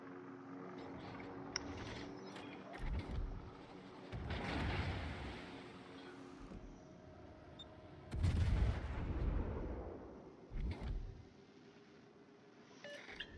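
Battleship Massachusetts fires its main guns in the World of Warships video game, several heavy booming salvos rolling out with rumbling tails amid quieter game sounds.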